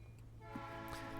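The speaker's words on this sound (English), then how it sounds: "But sorry about the train noise if you can hear it." A passing train carries faintly through an open window at night: a quiet, distant rumble with a sustained horn-like tone rising slightly toward the end.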